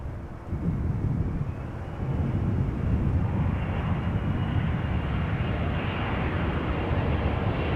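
A 12-year-old CRJ 900 ER regional jet arriving at Amsterdam Schiphol Airport, its engines a steady, fairly loud broadband roar that holds without a break.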